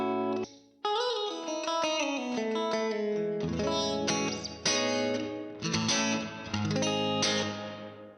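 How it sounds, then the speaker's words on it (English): Electric guitar chords and single notes through a Flamma Corrector's room reverb, ringing out with a roomy reverb tail, sustained and fairly loud, with brief gaps between strums. "So now I'm going to try the room reverb."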